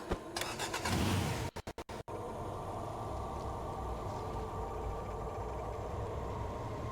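A car in the Sand Land video game revs and drives off, followed by a run of sharp clicks and then a steady engine drone that carries on alone.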